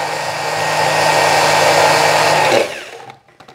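Garlic minced in an electric chopper, a loud steady motor whir that runs for about two and a half seconds, then cuts off and winds down into a few faint rattles.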